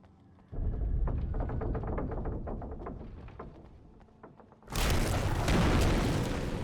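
Flashbang blast in the video game Alan Wake Remastered, a loud boom followed by a deep rumbling roar, then a bright hissing burst that fills the rest of the moment.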